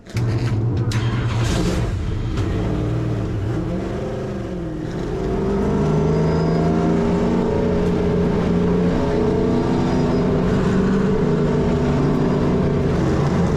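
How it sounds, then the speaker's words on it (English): Several race car engines start up and rumble together at a New Smyrna race, then rise in pitch as they rev, a loud, layered roar of many cars idling and accelerating nearby. "Drivers, start your engines! And there we go. Thank you, Liam. Field fires up."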